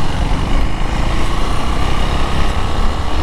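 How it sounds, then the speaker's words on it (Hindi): A KTM Duke 390 Gen3 motorcycle engine, fitted with an NGK Laser Iridium spark plug, runs with a noise coming from the engine head. It is a steady, loud, close-up mechanical drone with no talking. "एक तो साउंड आ रहा है इधर नीचे से, इंजन के हेड से शायद आ रहा था"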